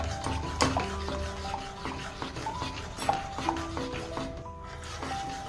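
A spoon scrapes and stirs thickening custard in a pan on a low flame, a soft steady rubbing with occasional light clinks against the metal.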